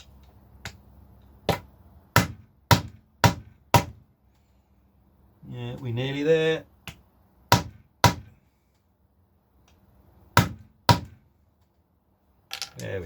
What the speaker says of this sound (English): And you want to hammer them in so they're just below the surface there.